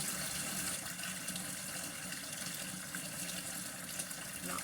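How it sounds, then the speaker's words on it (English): Water runs from a kitchen tap during cooking, a steady soft hiss that stays constant throughout with no talking over it. "You're probably hearing the water and not me"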